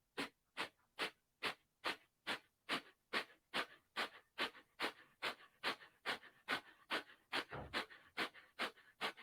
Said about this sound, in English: And then start your breath of fire.